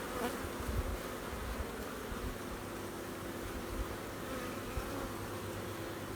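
Honey bees buzz steadily around an open nuc hive during a late-season inspection, a dense continuous drone close by with no talking.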